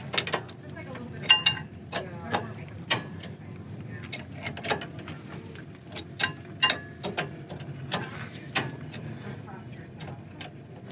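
A ratchet wrench tightens a bolt with repeated sharp clicks in uneven bursts, fairly close, under a quiet background with faint voices.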